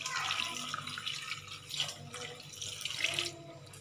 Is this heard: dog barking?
no